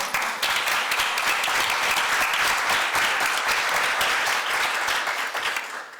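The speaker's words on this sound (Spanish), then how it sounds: "un aplauso también, que veo que" Sustained audience applause at a panel discussion on a proposed Spanish law on time use and gender, many hands clapping evenly throughout and fading slightly at the end.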